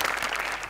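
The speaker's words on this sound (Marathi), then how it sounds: "सचिन सरांसाठी एकदा जोरदार टाळ्या" A brief, dense burst of applause from a live studio audience at a Marathi comedy show, steady and fairly loud for under a second.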